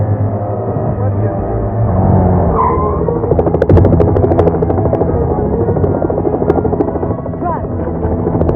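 A helicopter's steady rotor roar in Tomorrow Never Dies (1997) fills the scene, loud and close, with people talking and exclaiming over it.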